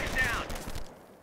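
Rapid gunfire in the World War II strategy game Company of Heroes, a loud burst of shots that fades out over about a second and stands alone without speech.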